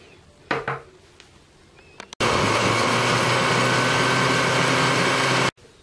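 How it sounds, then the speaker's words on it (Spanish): Knocks and clatter as a lid goes on, then a kitchen blender whirs loudly and steadily for about three seconds, blending mango, lime juice and chile powder for chamoy pops, before cutting off abruptly. "y lo vamos a licuar."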